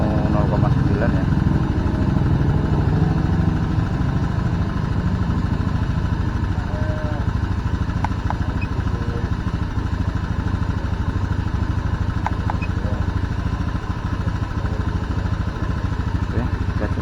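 Honda Scoopy PGM-FI scooter engine idling steadily after an air screw adjustment, a close, constant low putter running throughout under a man's speech, with a few faint metallic clinks.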